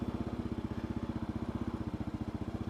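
Kawasaki KLR 650 motorcycle with non-knobby tires creeping slowly through deep mud, its single-cylinder engine chugging at a low, steady idle-like pulse, close and continuous with no talk.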